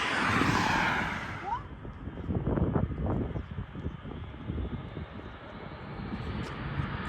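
A Boeing C-17 Globemaster military transport jet comes in to land, a loud, sustained engine roar with whining jet tones that sweeps past and lingers as a rumbling drone.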